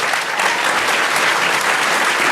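A live audience applauds a panel of Apollo scientists at a lecture event, with steady, dense clapping that fills the whole stretch evenly at close range.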